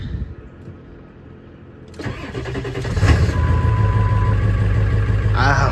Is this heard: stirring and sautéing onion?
no